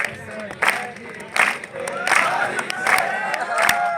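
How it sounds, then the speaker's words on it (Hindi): A political rally crowd roars and cheers loudly with scattered clapping, the noise swelling in repeated bursts of shouting voices that carry over one another throughout. "तुम तालियां बजाना कम करोगे"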